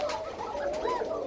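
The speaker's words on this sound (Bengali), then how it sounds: "সাদা কোকা কবুতর" A white Koka pigeon coos softly and nearby in a short, rolling murmur, with nothing else competing.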